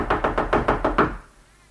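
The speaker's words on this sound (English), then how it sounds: "Balancing the tray on one hand, he knocks on her door." A quick series of six firm knocks on a door, evenly spaced and close, in an old radio drama, ending abruptly with no talk.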